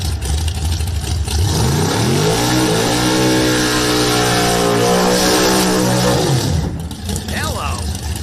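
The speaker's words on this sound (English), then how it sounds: "Big smoky burnout." A race car at a drag strip test-and-tune session revs loudly through a long burnout, the engine note rising and holding at a high, strained pitch before cutting off, with an announcer talking throughout.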